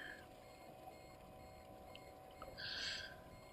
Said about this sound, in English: Shallow water alarms ringing.